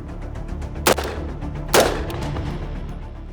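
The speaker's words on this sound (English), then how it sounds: "I want you to shoot 2 shots." A first-time shooter fires a handgun at a target at a range: two loud, sharp gunshots close by, slightly under a second apart, over steady background noise.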